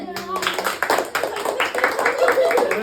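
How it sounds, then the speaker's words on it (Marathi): A small group claps at a home cake-cutting celebration, quick uneven hand claps close by for a few seconds, with voices mixed in. "टाळ्या वाजवा"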